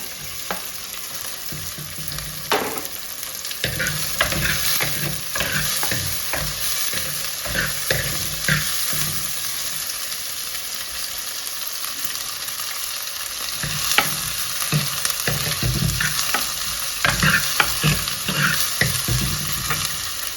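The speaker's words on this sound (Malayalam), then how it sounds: "അതിലേക്ക് നമ്മൾ ഈ മുറിച്ച് വെച്ച വെണ്ടയ്ക്ക ഇടും" Cut okra tossed into a pan with finely chopped onion, frying with a steady broadband sizzle and repeated scraping stir strokes throughout, close and fairly loud, no voices.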